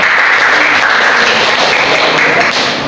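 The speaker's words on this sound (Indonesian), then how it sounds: "Beri tepuk tangan." A crowd applauds steadily after a group presentation, dense clapping filling the space at an even, loud level from start to finish.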